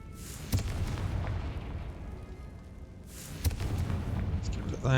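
Spell explosions in the Hogwarts Legacy video game boom twice, several seconds apart, over a dense, rumbling game soundscape.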